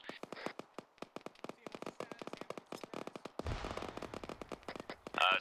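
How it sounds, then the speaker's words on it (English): Heavy gunfire from uphill during a military field exercise, a rapid series of sharp, distinct shots in irregular bursts, fairly close, with a louder rumbling stretch near the end. "Still taking heavy fire from uphill, though."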